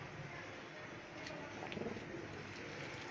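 Caged racing pigeons coo softly a few times against a steady background hiss, faint and close, with no voices.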